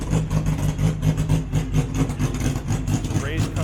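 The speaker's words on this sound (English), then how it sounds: "We got another car coming in over here." A car pulls into a downtown car show in Jackson, Michigan, its engine rumbling low and steady at close range, with background chatter from the crowd.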